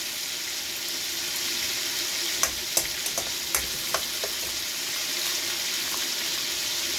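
Onion, garlic and tomato sauté in a pan for ginisang monggo with a loud, constant sizzle, and a short run of sharp clinks and taps from stirring in the middle.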